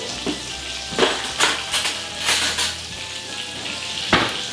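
Food sizzling in a frying pan on the stove, tossed with a spoon, gives a steady frying hiss with several louder scraping, sizzling bursts as the pan is stirred, and no talking.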